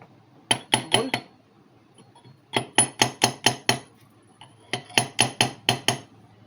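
Metal hammer blows strike a threaded water seal fitting in three quick bursts of sharp, ringing clinks, three to six taps each, close and loud against near silence.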